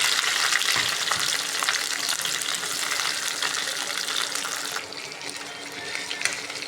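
Okra (bhindi) fries in hot oil in a kadai. The sizzle is loud and crackling at first, then drops to a quieter, steady hiss partway through.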